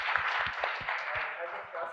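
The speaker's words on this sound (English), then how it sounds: "please give him a round of applause" A conference audience applauds in a steady, dense patter of many hands, fairly close, while a voice speaks over the clapping.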